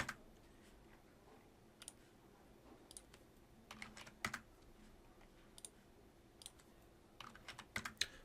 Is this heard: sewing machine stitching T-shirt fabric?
no